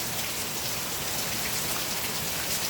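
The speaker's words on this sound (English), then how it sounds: "Sorry for the rain noise." Heavy rain falls continuously on a parking lot at night, an even wash of pattering drops hitting the ground close by.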